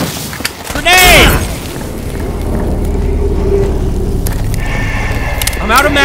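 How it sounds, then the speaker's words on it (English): A grenade blows up in the zombie shooter No More Room In Hell: one loud, near blast with a sharp crack, a rising ringing tone and a rumbling tail, then a long low roar. Another burst comes near the end. "Grenade!"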